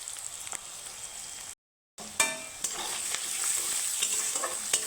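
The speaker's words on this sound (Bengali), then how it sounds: "তো পেঁয়াজটাকে আমি লাল করে ভেজে নেব" Onions frying in a pan with salt and Kashmiri chilli powder for a katla fish curry, a steady close sizzle with occasional stirring scrapes, cut by a short gap of silence before the hiss resumes.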